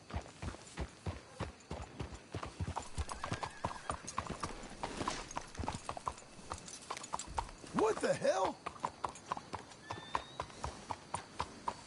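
Horse hooves clip-clop steadily and close by in Red Dead Redemption 2 gameplay, a brisk repeating beat that runs throughout, with a horse whinnying midway and brief speech over the hoofbeats.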